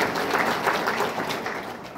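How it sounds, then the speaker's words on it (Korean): Audience at a Korean civic association's general meeting applauding the editorial committee, a steady wash of many hands clapping at moderate volume throughout. "박수 한번 부탁드리겠습니다."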